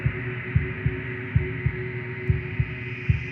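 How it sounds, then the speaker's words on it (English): A wooden and fleshy heart in the video game Slay The Princess beats in a steady, unbroken rhythm, low soft thumps about every third of a second over a constant droning hum. "a wooden and fleshy heart beating with an unbroken rhythm"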